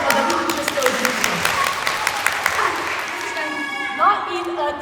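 Audience of children clapping and applauding at a school reading-celebration puppet show about Pippi Longstocking and a pirate, a dense patter of claps throughout, with an adult voice talking over it.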